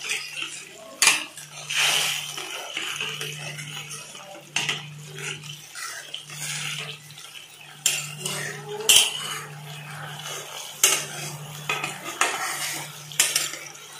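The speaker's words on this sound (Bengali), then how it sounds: "খুব ভালো করে আমি কিন্তু এটাকে নেড়ে নেবো।" Suji dhokla batter being stirred with about a cup of water in a bowl, a utensil clinking and scraping against the sides in steady repeated strokes, close and moderately loud.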